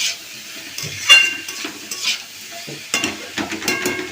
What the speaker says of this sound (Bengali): সবজিটা ভালো করে ভেজে নিন